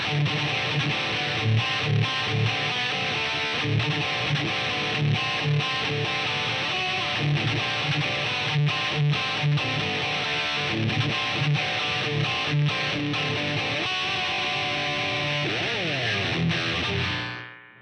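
Electric guitar played through a Rat distortion on a Line 6 POD HD500x with no other effects, a loud, buzzy, saturated riff with rhythmic chugging chords that cuts off at the end.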